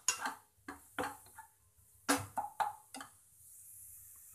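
A spoon or spatula clatters and scrapes against a pan while onion and spices are stirred for matar paneer. The knocks come in short, separate bursts with quiet gaps between them, close and fairly faint, and no one speaks.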